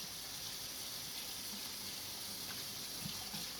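A tie-dyed spiral shirt in purple tones is rinsed under a running tap, giving a steady, close hiss of flowing water into a sink with no talking.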